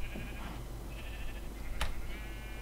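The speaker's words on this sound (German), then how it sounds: "Die Schafe gehen mir so auf den Sack, ne?" Sheep bleating in Minecraft, a few wavering bleats spread across a few seconds over a steady background hiss, with a short sharp click partway through.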